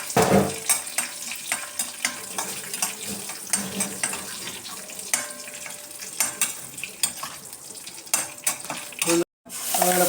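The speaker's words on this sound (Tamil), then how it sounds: "போட்டு அப்படியே வதக்க வேண்டியதான் கொஞ்சம் வதக்கிட்டு அப்படியே ஆஃப் பண்ணிடலாம்" Sesame chutney sautéing in a pan for a Tirunelveli-style meal, with steady sizzling and frying crackle, occasional scraping of a spatula against the metal and light clinks, running continuously before a brief cut near the end.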